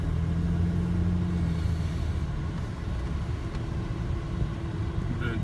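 A car rolls slowly along a mountain road in Colorado at about 20 mph, its engine a steady low rumble with tire and road noise throughout, fairly close and with no talking.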